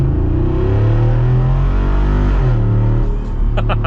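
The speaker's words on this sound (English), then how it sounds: "we have the exhaust valves closed for a second, but we're actually going to open them now so that we can hear it as we accelerate" A Jeep Wrangler Rubicon 392 V8 with its exhaust valves open roars loudly as it accelerates, a deep, steady, rising engine note heard up close.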